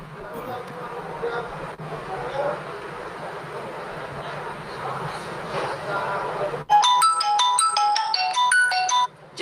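A phone rings with a bright electronic melody of rapid chiming tones, loud and close, after several seconds of murmuring voices and room commotion that cut off as the ringtone begins.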